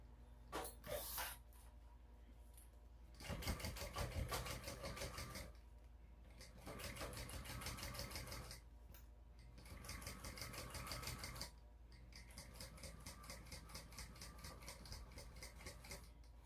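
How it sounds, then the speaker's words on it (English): A sewing machine runs in several bursts of steady rapid stitching, separated by short pauses, while top stitching and basting bag pieces at a 1/8-inch seam allowance. The sound is close and fairly quiet, with small clicks between runs. "I'm going to go across the top and top stitch, go up the top, up the side, across the top, down and around, and baste all these pieces together"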